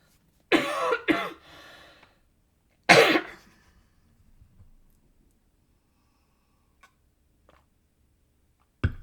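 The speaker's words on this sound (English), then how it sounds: "let me just cough a moment" A person coughs close to the microphone, two quick harsh coughs followed by a third a moment later, then near silence with faint small clicks and one last short sound at the end.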